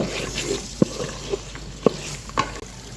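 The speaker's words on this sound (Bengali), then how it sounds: "এখন এখানে দিয়ে দিচ্ছি মটরশুঁটি এখন সবগুলোকে খুব ভালোভাবে কষিয়ে নেব" Green peas and spices stir-fried in a pan for a cabbage ghonto, with soft sizzling under a few sharp scrapes and clacks of the spatula against the pan, close up and with no one talking.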